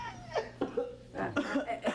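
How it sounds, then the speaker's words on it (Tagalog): A person coughs several times in short, harsh bursts at close range, with brief pauses between them. "Pero inuubo ka mo."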